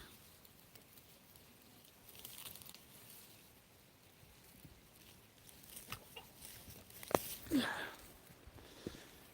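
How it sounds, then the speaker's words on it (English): Backyard chickens being fed dandelion, clucking softly and scattered among rustling and patter, with a few sharper calls near the end and no one speaking. "Let's give these chickens some dandelion here."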